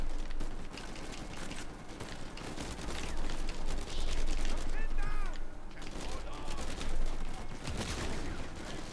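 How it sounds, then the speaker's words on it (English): Steady video game gunfire keeps rattling away in fast, dense bursts over a busy mix of game sounds and music, loud and continuous with short swells in intensity. "Keep shooting."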